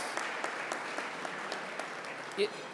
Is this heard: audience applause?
yes